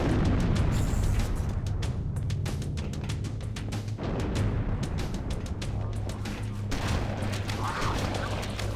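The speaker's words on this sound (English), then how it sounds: "Everything is exploding." Continuous explosions and crackling blasts fill a Halo firefight, loud and layered with rapid bursts and booming impacts throughout, with no letup.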